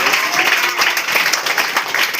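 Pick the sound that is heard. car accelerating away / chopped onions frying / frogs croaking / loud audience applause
loud audience applause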